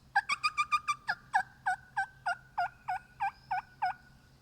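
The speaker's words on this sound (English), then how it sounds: "the turkeys, they started gobbling on a food plot" Wild turkeys gobbling on a food plot during a Yazoo County, Mississippi turkey hunt: a clear run of about fifteen sharp, rattling gobble notes, rapid at first and then spacing out, with no talk.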